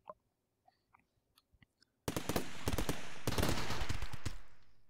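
Turrets firing in Rimworld Alpha 1: a few faint, scattered clicks at first, then a sudden, sustained stream of rapid shots that holds steady for a couple of seconds before tapering off.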